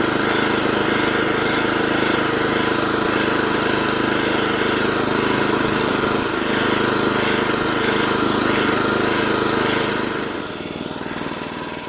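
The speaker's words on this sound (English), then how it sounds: "All right, so with that, let's continue to mow." California Trimmer reel lawn mower, the Catalyst model, running continuously while mowing grass, a steady loud close engine drone that drops off slightly near the end.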